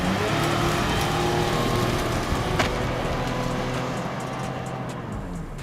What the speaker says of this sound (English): it feels how difficult it is for the engine to pull the big car uphill